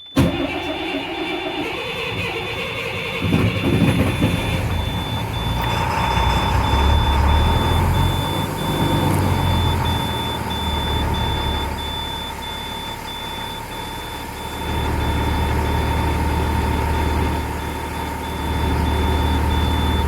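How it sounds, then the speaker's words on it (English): A large DT466e diesel bus engine cranks in cold weather with a grinding churn, then catches and settles into a loud rumbling idle while a warning beep tone sounds throughout. "now I'm going to start the bus"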